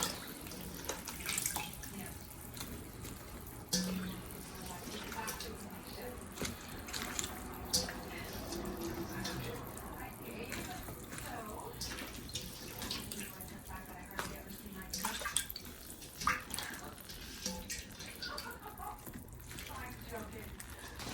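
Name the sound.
pork chop stew boiling in a pot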